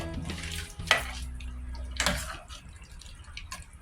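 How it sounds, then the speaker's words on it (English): Canned chickpeas being rinsed with water in the can, with a few splashy pours and drips close by, short bursts separated by quieter moments. "I always rinse my chickpeas before adding them"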